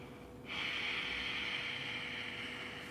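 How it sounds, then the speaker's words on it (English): A steady, breathy rushing exhale through a constricted throat in Ujjayi yoga breathing, starting abruptly and holding for a few seconds like a soft ocean hiss. "I'm doing a certain breathing technique called Ujjayi breath."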